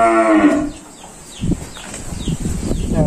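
A cow moos once, a loud drawn-out low call close by, followed by rustling and handling noise with no talk.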